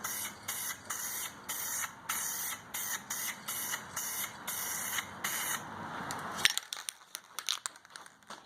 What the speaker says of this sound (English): as I'm spraying it very carefully,